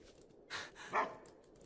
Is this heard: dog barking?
yes